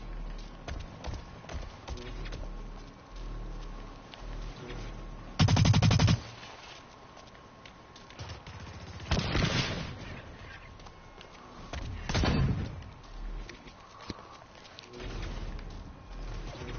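Assault rifle fire in the shooter game Blacklight Retribution: rapid, loud automatic bursts break out over a steady, busy game background, with several separate volleys spread across the stretch.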